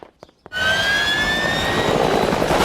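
A small turbine helicopter, the Peter Copter, starts up after a few faint thumps and sustains a loud, steady whine and roar with rising tonal turbine pitches throughout.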